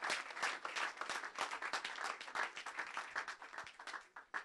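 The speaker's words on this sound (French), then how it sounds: "Vous pouvez applaudir les membres du jury sous vos applaudissements." An audience at an evening awards event in Brussels applauds the jury, a steady, moderately distant wash of clapping from a crowd that tapers off at the end.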